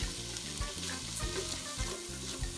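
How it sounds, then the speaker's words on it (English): Vegetables frying down in a pan for slow-cooked pulled beef, a steady close sizzle with rhythmic stirring scrapes throughout, no talking. "we're just gonna fry down until we start seeing some caramelization, some color on it"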